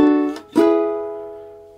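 Ukulele strummed in first position on the chorus chords of a song, two quick close strums whose second chord rings out and slowly decays, with no voice.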